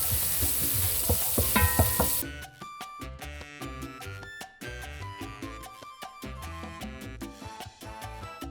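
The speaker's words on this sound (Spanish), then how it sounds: "Aquí tenemos que subir el fogón a fuego máximo. Cocinamos el ajo por unos cuantos segundos." Crushed garlic hits a pan over maximum heat with a loud, bright sizzle for about two seconds, then cuts to softer background music for the rest.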